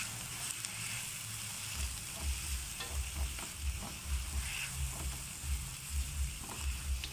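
Gooseberries cooking in a pan with chilli and turmeric for pickle, a soft continuous sizzle with a low rhythmic scraping of stirring repeating steadily underneath.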